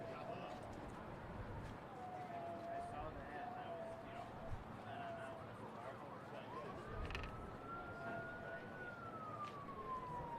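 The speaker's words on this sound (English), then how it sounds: "I heard a siren." A siren wails in the distance, its pitch rising and falling slowly beneath a steady crowd murmur and background noise.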